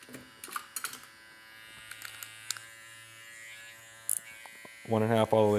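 Electric hair clippers trimming during a taper haircut: a close, loud buzzing starts near the end in two short stretches, after softer rustling and a person talking.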